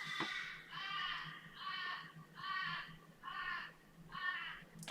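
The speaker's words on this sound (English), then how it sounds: "Never heard crows crowing at this time of night." Crows caw at night, about six evenly spaced harsh calls from a single bird, moderately distant and alone against a quiet background with a low steady hum.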